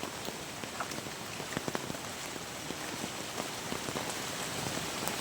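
Rain falls outdoors in a farm field among banana plants, a steady close hiss broken by many sharp individual drop impacts, with no talking.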